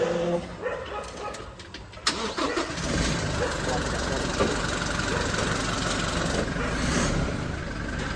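A car engine with a loss of power cranks and then catches, settling into a steady, rough, loud running drone, with voices faintly present nearby.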